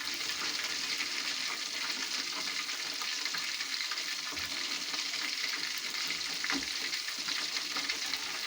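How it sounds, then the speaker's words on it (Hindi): Chicken pakora frying in hot oil, a constant crackling sizzle with bubbling spatter throughout, a couple of faint clinks as pieces are turned, no voices. "माशाल्लाह से एक साइड से हमारा चिकन फ्राई हो चुका है।"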